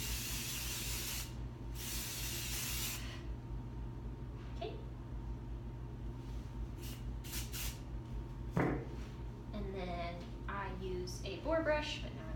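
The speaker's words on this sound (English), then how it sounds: "I take Artero's Flash. This is more or less a shine spray, however, it's not oily or greasy." Artero Flash shine spray misted onto the wire coat of a miniature wirehaired dachshund being groomed for show, a couple of hissing bursts from the bottle over a steady background hum, with brief voice sounds near the end.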